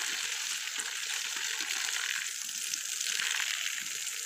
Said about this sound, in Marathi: मी आज तिला अगदी भरपूर पाणी घालते.